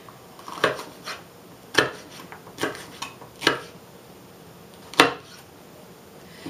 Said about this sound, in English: I'm going to just slice up 1 red bell pepper